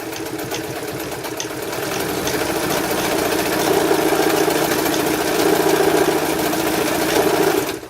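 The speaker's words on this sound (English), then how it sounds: "this is a strong homemade household sewing machine" A metal household sewing machine sewing a straight stitch runs continuously, a loud, steady mechanical whir and rapid stitching rattle that picks up slightly in speed.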